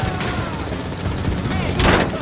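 Gunfire rings out in Grand Theft Auto V, with repeated shotgun and machine-gun blasts cracking over a busy, loud game mix and a sharp burst near the end.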